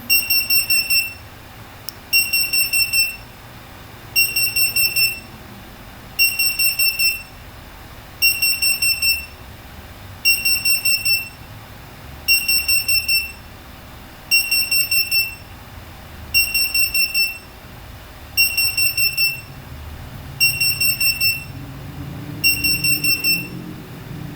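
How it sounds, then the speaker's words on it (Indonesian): A loud alarm buzzer beeps in regular pulsing bursts, about one every two seconds, repeating steadily with no one talking. "Alarm dari buzzer tersebut akan berbunyi selama 1 menit."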